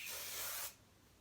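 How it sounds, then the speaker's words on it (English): A short burst of NYX extra hold hairspray, a close, loud hiss for about two-thirds of a second that cuts off cleanly into quiet. "And then I brought up my NYX Chavez Extra Hold Hairspray."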